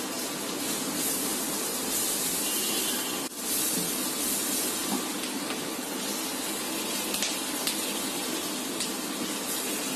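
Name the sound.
chopped onions sizzling in frying butter and garlic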